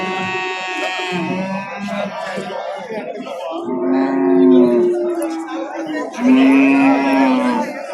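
A pregnant cow moos repeatedly at a livestock market in long, loud, drawn-out calls, with a couple of deeper bellows later on, and no talking alongside.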